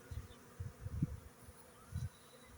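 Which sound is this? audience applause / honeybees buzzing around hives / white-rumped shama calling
honeybees buzzing around hives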